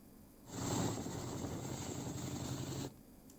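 A Chinook helicopter roars in a brief burst of loud rotor and engine noise lasting about two and a half seconds, starting abruptly, holding steady, then cutting off sharply.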